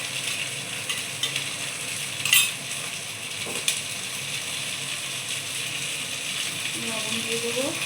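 Fried potatoes sizzle in a pan as a paste of ginger, cumin and chili is stirred in, a steady hiss with a few scraping stirs and clinks, and a voice speaking over it.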